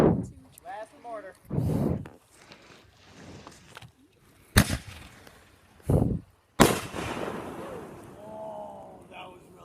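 A backyard firework mortar shell launches with a sharp thump and bursts in several loud cracks and pops, with people talking between the bangs and reacting afterward.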